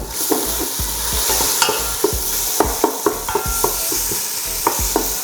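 Onions are stirred in a pot of hot oil for a pork and pechay dish, giving repeated close scraping knocks from the spoon over a constant bubbling sizzle, with no speech.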